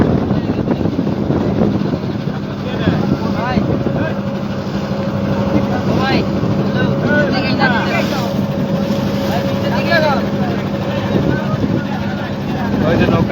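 A boat engine drones steadily on a wide, wave-swept haor lake, a close constant hum mixed with wind buffeting the microphone and voices talking over it throughout.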